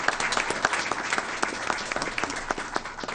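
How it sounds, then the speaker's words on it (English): Audience applause at a school board meeting, a steady wash of many hands clapping throughout, with faint voices in the room beneath it. "I would like to give both of them another round of applause"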